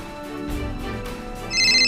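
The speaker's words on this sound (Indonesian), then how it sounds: "Bentar, ada yang telepon aku." A phone ringtone plays in the video game Sakura School Simulator, a bright electronic tone that swells louder near the end.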